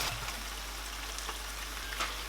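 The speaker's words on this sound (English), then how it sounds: "So I'm going to fry this tomato until every water in it has completely dried out." Tomato frying in a pan produces a soft, steady sizzle with faint crackles, heard close and fairly quiet with no talking.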